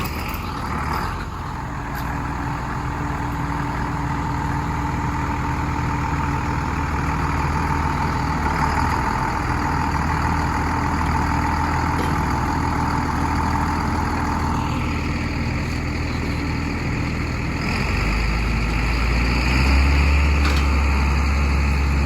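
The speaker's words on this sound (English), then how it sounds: "Tractor just pulled right out, didn't it?" A tractor engine runs under load while pulling stuck container trucks, a constant low rumble and drone that shifts pitch midway and grows heavier and louder toward the end.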